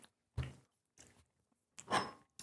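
Someone chewing a crunchy Reese's candy product, three short bursts of crisp crunching close to the mouth, separated by silent pauses.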